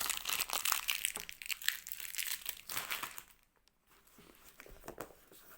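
Plastic packaging tape being pulled off indie comic books, a dense run of close crinkling and tearing that thins into quieter, sparse rustles near the end.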